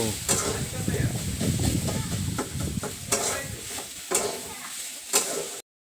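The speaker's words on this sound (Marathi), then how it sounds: "किती वेळ परतून घ्यायचा असं चांगलं कांदा सगळं टोमॅटो मिक्स होईपर्यंत" Chopped onion and tomato sautéing in a pan for Maharashtrian eggplant bharta, a constant sizzle with repeated scraping stirs of a spatula against the pan and a few sharper knocks.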